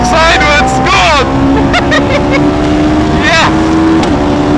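A Hayabusa-powered Westfield car at a track day screams loudly up through the revs to just over 11,000 rpm, its rising engine pitch close and dominant, easing and climbing again.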